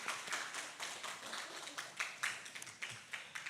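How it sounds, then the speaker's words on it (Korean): A church congregation claps together in thanks, a faint, somewhat distant patter of many hands in an uneven rhythm that runs steadily for a few seconds. "박수 한번 하죠."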